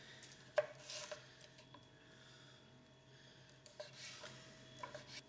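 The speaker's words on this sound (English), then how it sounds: "you take a red pepper and just cut it into very thin slices" A knife slices a red pepper into very thin slices on a cutting board, quiet, close, irregular soft taps and scrapes spaced over several seconds in a still kitchen.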